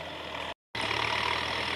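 A New Holland TS90 four-cylinder 5,000 cc diesel tractor drones steadily and loudly while plowing a field, with a brief cut in the middle before the same constant engine roar resumes.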